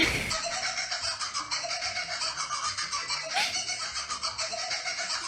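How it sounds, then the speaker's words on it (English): Kookaburra laughter played back sped up comes through as a loud, rapid, continuous stream of chattering, cackling calls with no voices over it. "It was actually the sped up laughter of the kookaburra."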